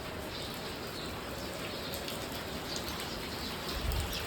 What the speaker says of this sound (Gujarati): જો વરસાદ કેવો આવે, આવો વરસાદ આવે છે